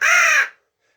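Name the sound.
Primos plastic crow call imitating crow caws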